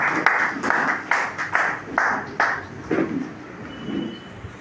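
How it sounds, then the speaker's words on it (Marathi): Audience clapping in bursts to welcome a guest at a Marathi public event, several short rounds of claps close together, fairly loud with some crowd murmur. "जोरात टाळ्या वाजवून या ठिकाणी स्वागत करायचंय."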